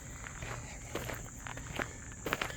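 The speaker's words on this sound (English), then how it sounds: "I'm going to walk all the way around." Footsteps tread around a hay loft at a farm animal sanctuary, a soft uneven series of nearby steps scuffing and rustling over hay, with no voices.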